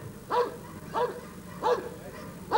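Four sharp dog barks ring out at a steady, evenly spaced rhythm at an international dog competition in Tournai, moderately distant, over a quiet background hum.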